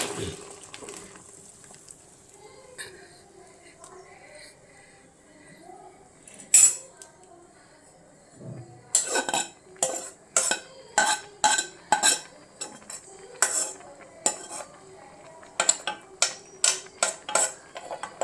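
Spoon clatter and scraping while food is transferred and stirred in a clay pot, sparse at first, then a rhythmic series of close, bright knocks and scrapes.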